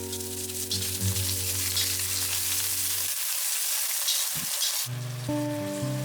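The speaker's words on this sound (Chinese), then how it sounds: "葱姜爆香" Scallions and ginger crackle in hot oil at the start of a dolphinfish-bone soup, a steady close sizzle for about three seconds that cuts out, then returns briefly, with tonal background sound throughout.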